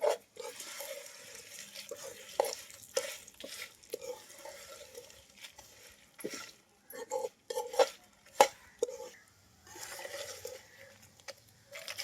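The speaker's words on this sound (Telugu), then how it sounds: "లాస్ట్గా ఇవన్నీ కూడా ఒకసారి వేపుకుంటాను నేను" Sesame seeds and bitter gourd roast in a pan while a spoon scrapes and stirs in quick, repeated strokes over a low frying hiss, fairly close and with no talking.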